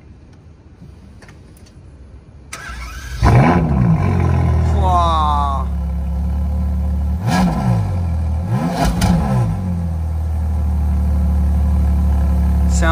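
A Ferrari 812 GTS V12 fires up at about three seconds with a loud bark, then settles into a deep idle broken by two sharp revs. A brief voice exclaims over the engine.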